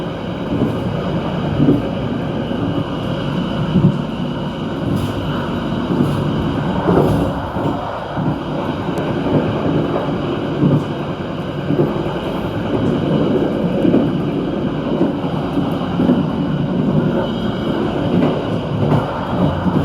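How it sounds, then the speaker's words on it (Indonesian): An Indonesian Taksaka express train passes straight through Kroya station in Cilacap, heard from on board as a continuous loud rumble of wheels and carriage noise with faint rhythmic clatter throughout. "Dan kereta api Taksaka melintas langsung stasiun Kroya"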